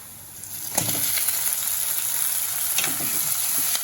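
Crabs fry in a pan with onions, giving a loud, continuous close sizzle. A couple of stirring scrapes and clatters rise above the crackle.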